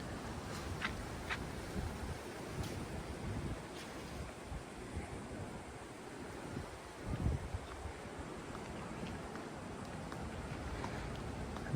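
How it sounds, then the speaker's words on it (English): Ocean waves wash continuously with a soft breeze blowing through palm trees at Atalaya Castle, Murrells Inlet, South Carolina, a steady rushing texture with occasional louder surges. "I can hear the waves, I can hear the breeze through the palm trees."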